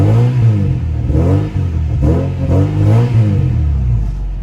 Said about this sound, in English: Let's give it some gas.